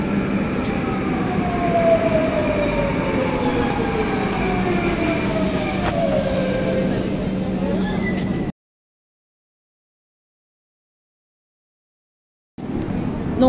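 Lyon metro line B train running between Saxe Gambetta and Charpennes, a loud continuous rolling rumble with rising and falling motor whine for about eight seconds, then silence before the noise returns.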